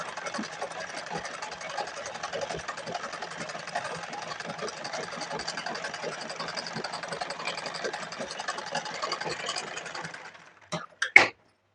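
A sewing machine runs steadily stitching a pajama hem seam, a fast even whirring rattle for about ten seconds, then stops with a few short knocks and handling sounds at the end.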